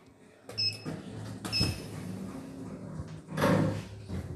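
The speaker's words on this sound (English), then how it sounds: "Doors opening." Lift doors in a shopping mall slide open, with a few clunks and a mechanical whir in quiet surroundings, followed by a louder rush near the end.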